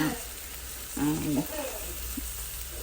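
Food fries steadily in a pan at home, a continuous soft sizzle with a few brief stirring scrapes, heard up close at low volume.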